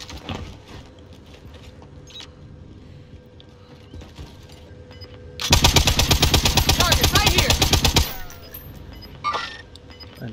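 An M60 light machine gun in Call of Duty Warzone rips off a loud, sustained automatic burst of about two and a half seconds in the middle, with quieter game ambience and scattered shots before and after.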